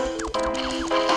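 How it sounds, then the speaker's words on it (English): Filtered crunch effect for a video game, made from a potato chip bag being handled, heard as a steady run of bright crinkly bursts with falling tonal sweeps, continuous and close for about a second. "that crunch sound was actually the bag of potato chips I was eating for breakfast this morning"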